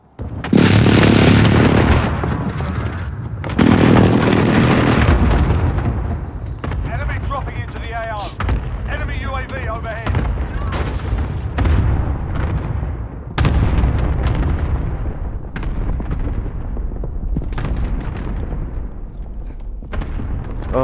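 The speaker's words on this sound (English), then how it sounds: "Be advised, friendly precision airstrike inbound." Precision airstrike explosions in Call of Duty Modern Warfare, a run of loud booming blasts and rumbling detonations in close succession, with scattered gunfire and voices talking in between.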